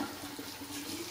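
A tap runs steadily into a sink while a man rinses his face and cleans his shaving gear. The water makes a close, continuous rushing splash.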